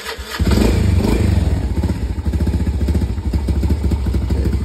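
A motorcycle engine idles on a cold night to warm up, a loud close steady throb with rapid regular pulses that settles into an even chugging rhythm after starting up.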